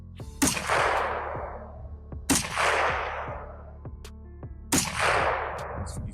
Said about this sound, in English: 110 yard SKS. Soldier. Iron sights.